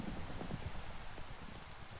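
Rain in the dinosaur survival game Mesozoia, a steady, dense patter of drops on surfaces that hisses evenly throughout, soft and continuous with no voices.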